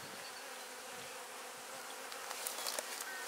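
Honey bees are being shaken into a queen castle hive compartment, filling the air with a dense, steady, close buzzing drone that rises slightly toward the end.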